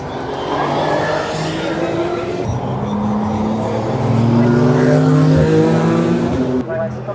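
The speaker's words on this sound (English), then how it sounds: "you'll see all these cars very soon, making lots of noise" Several racing cars roar past at the Nürburgring 24 Hours race in a continuous loud drone, engine pitches rising and falling as they pass, with voices faintly mixed beneath.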